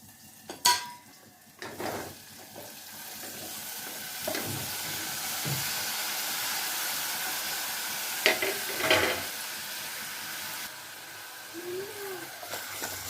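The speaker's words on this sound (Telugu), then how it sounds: "ముందుగా కోసి పెట్టుకున్న మునక్కాయ ముక్కలు, వంకాయ ముక్కలు, టమాటాలు వేసుకుందామండి." Pieces of drumstick, brinjal and tomato sizzle and hiss in a pan of onions, with stirring scrapes and clinks of a utensil against the pan, steady and close with no talk.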